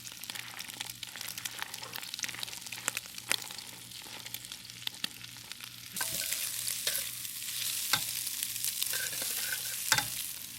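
Red onions, chopped ginger and bean sprouts stir-frying in a hot pan, a steady sizzle broken by scraping and tossing clicks, the sizzle growing louder partway through, with no talk over it.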